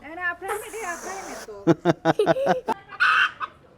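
Hens cluck in a quick series of sharp, close calls, with people talking nearby before and between the clucks.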